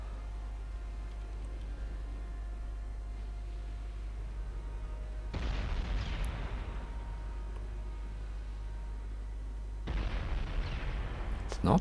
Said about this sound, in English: It's opening up with the tiny 5-inch guns.